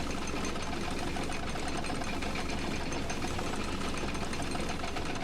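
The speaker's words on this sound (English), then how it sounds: "Say goodbye to the bucket, and then pop it into the machine when you're ready." Bucket Destroyer machine in the video game The Stanley Parable gives off a steady, loud mechanical whirring and rattling drone, like a running motor, that fills the whole stretch evenly with no talk.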